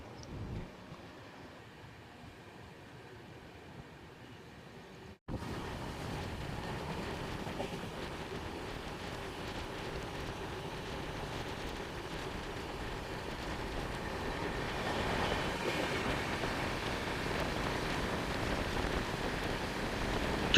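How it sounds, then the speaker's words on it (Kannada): A train pulls out of Tumkur station, starting as a faint low hum, then a sudden jump to a louder, steady rolling rumble that slowly builds as it gathers speed. "ಸುಮಾರು 3 ನಿಮಿಷ ಹಾಲ್ಟ್ ನಂತರ ನಮ್ಮ ಟ್ರೈನು ತುಮಕೂರಿಂದ ಡಿಪಾರ್ಚರ್ ಆಗ್ತಿದೆ."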